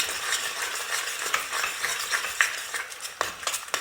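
A spoon stirs a reduced chicken pastilla sauce with sugar in a pan, giving soft scraping and light clinks over a gentle bubbling, close and fairly quiet with no talk.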